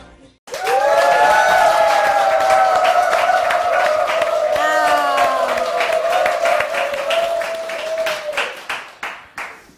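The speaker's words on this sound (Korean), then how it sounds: "환호가 대단한데요." A talk show audience cheers and applauds loudly as a song's sustained final notes ring out, the crowd noise holding steady, then breaking into scattered claps that fade near the end.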